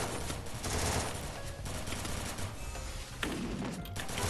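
Rapid MP40 submachine gun fire in a Free Fire–style shooter match, dense bursts of gunshots with thuds running continuously and loud for several seconds.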